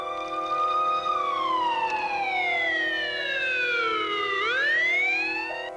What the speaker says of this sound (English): and the Schaefer ambulance called